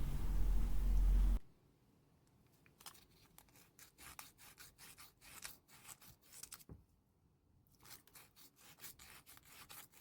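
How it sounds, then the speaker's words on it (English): A silver ring is rubbed by hand with 320 grit emery, giving soft, irregular scratchy strokes in short bursts with pauses, quiet and close, after a brief loud opening noise. "I'm using 320 grit emery here"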